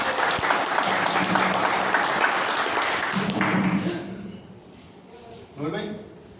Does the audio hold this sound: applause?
yes